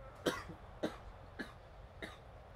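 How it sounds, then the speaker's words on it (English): A person coughs in a fit, four sharp, evenly spaced coughs at close range over a quiet background. "Whatever it is, it's making me have a coughing fit."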